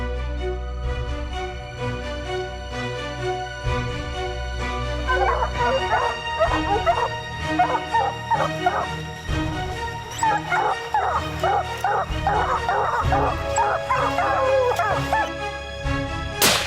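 Hunting hounds bark, yip and whimper at a black bear trapped up a tree. The excited calls come in rapid, overlapping bursts against steady low background noise.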